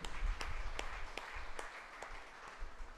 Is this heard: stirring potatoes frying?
no